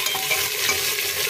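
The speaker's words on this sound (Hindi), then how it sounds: "थोड़ा सा फ्राई कर लीजिए।" Mixed vegetables and prawns fry in a pressure cooker, giving a steady, close crackling sizzle with stirring, and no one speaks.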